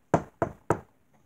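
Knock at a door: three firm, evenly spaced raps, close and clear, with a short silence after.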